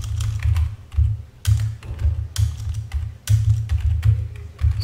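Typing on a computer keyboard to enter a command, a rapid run of close, clear key clicks in short bursts with brief pauses, with no talk over it.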